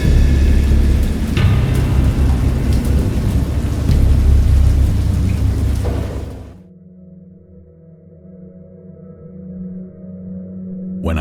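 A thunderstorm with heavy rain roars loudly and steadily for about six seconds, then drops off sharply to a faint, low rumbling hum.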